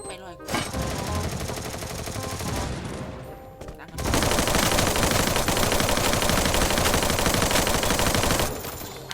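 Dense, loud gunfire bursts in rapid succession, rattling on nearly without pause and growing heavier and fuller partway through before easing off at the end.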